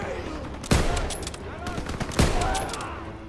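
Bolt-action rifle shots in Call of Duty WWII, two sharp loud cracks about a second and a half apart, each trailed by ringing echoes and a faint ejected-casing clink.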